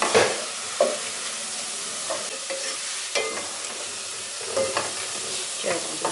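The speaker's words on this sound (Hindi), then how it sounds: "सुनहरा होने तक मीडियम से लो फ्लेम पे फ्राई करें।" Onions frying in oil over a medium-low flame until golden, making a steady soft sizzle with repeated brief stirring scrapes, close and moderately loud, with no talking.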